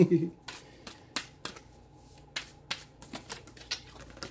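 Soft riffling and sharp flicking clicks of cards being shuffled, irregular but steady, close by and fairly quiet against a low background.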